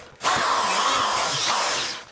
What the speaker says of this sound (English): Now I'm going to drill a series of holes around the outside.